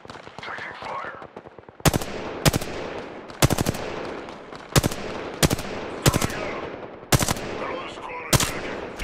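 Gunfire in Apex Legends on the Worlds Edge map comes as loud, close bursts of rapid automatic shots in repeated volleys spread across the stretch, with softer game sounds between them.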